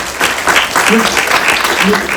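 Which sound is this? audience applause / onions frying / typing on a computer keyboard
audience applause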